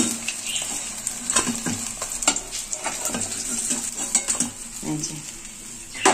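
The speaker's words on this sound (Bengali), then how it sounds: "বাকি মাছটাও লাল করে ভেজে নেব।" Fish pieces frying in oil in a kadai for a Bengali fish curry, a steady close sizzle with scattered clinks and scrapes of a utensil against the pan.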